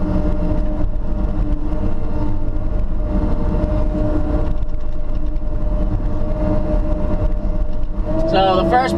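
A Cat 305.5E2 mini excavator drives across a drainage-pipe digging site, its engine running as a steady, continuous drone close by throughout, with a brief higher mechanical whine near the end.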